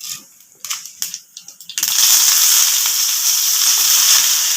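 Mustard seeds and urad dal hit hot oil: a few sharp ticks and scattered drops at first, then a dense, loud, steady sizzle that carries on for several seconds.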